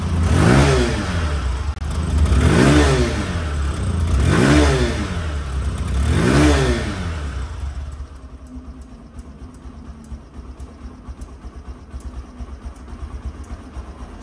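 A motorcycle engine is revved hard three times in even swells, each rising and falling, then drops to a quieter steady idle.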